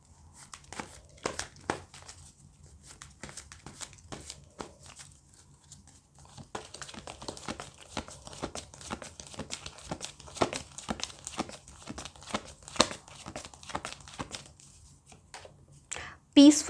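Oracle cards being handled and shuffled during a tarot reading, giving soft, close crinkling and flicking card sounds in a busy irregular rhythm, quiet throughout with a louder rustle at the very end.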